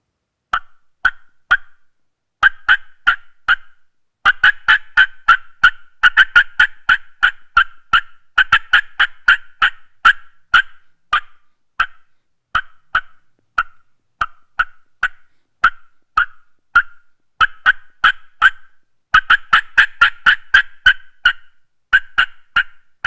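Mouth-operated diaphragm turkey call imitating an excited hen cutting: sharp, rapid clucks in irregular bursts and runs, loud and close, repeating throughout with short pauses between flurries, no talking.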